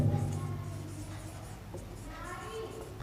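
A marker or chalk scratches across a classroom board as a sentence is written out, in continuous strokes under a teacher's steady voice.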